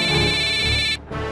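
A telephone rings loudly with a steady electronic ringtone, sustained for about a second before a brief drop and then resuming, with no talk over it.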